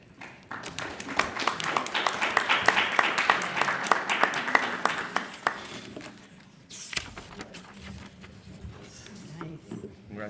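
An audience at an awards ceremony applauds, with a dense patter of clapping that swells and then fades. Voices are heard in the room near the end.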